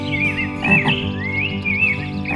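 A cartoon frog croaks loudly and close in a short run of warbling, throaty calls, with rising and falling squeaky tones layered over a low buzzing drone.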